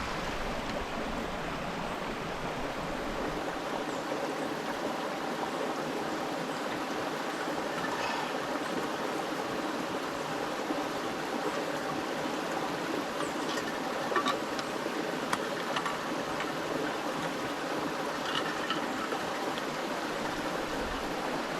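A river stream flows at an outdoor spot in Jamaica, a steady, moderately faint rushing wash of water that continues evenly throughout with no voices.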